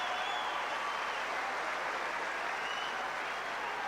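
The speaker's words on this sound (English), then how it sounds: "Listen to the reaction of the number 1 court crowd as Cruz Hewitt brings up break point" Tennis spectators on Wimbledon's number 1 court applaud, a steady dense wash of clapping and crowd noise lasting throughout at an even level.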